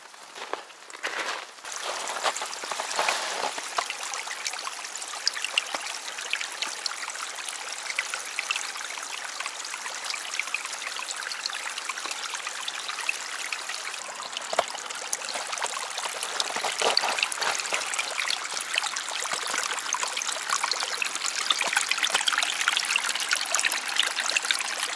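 Water trickling and streaming at a frozen waterfall in the snowy Austrian Alps, a continuous soft splashing flow heard alone, fairly quiet and steady, growing slightly fuller toward the end.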